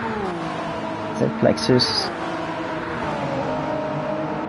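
Gran Turismo 7 race cars in a Le Mans 24h pre-qualifying lobby, one overtaking another, with a steady engine drone running under continuous commentary and a brief rise around the pass.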